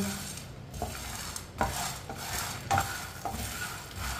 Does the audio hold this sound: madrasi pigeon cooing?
no